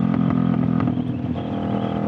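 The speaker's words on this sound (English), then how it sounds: "there's that loud ass backfire from the exhaust" A Kawasaki Vulcan S motorcycle rumbles nearby with a series of sharp exhaust pops and crackles over the running engine, the pops fading as the engine settles.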